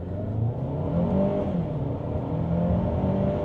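An Omoda 5 SUV accelerates hard from a standstill through 0 to 60, its engine droning loud and continuous from inside the cabin as the pitch climbs and resets with each gear change, with no one talking.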